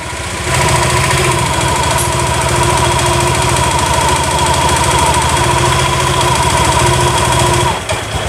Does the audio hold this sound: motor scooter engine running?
yes